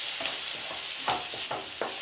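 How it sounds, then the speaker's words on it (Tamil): Onions sizzle and hiss steadily in a hot pan, with a few soft stirring scrapes breaking through the frying noise. "வெங்காயம் வந்து 1 நிமிஷம் நல்லா வதக்கி விடுங்க"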